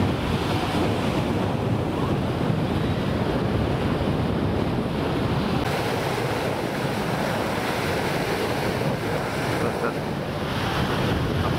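Waves breaking along a long, wide beach in Alanya: a steady, loud wash of surf mixed with wind buffeting the microphone, continuous throughout with no voices.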